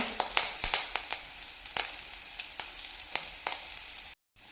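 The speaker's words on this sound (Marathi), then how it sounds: "आता इथे हे मी सेम दोन मिनटं भाजून घेणार आहे यामध्ये थोडा कडीपत्ता घालून घेऊया" Stuffed bitter gourd roasting in a pan with curry leaves, a dense crackling sizzle with sharp pops and spatters throughout, close, briefly cutting out near the end.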